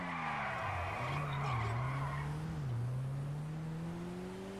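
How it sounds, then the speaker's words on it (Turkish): A car's engine drones steadily in Grand Theft Auto 5, its pitch dropping and climbing again at each gear shift, with a brief squealing hiss at the start. "Vites geçişleri bir acayip arabanın."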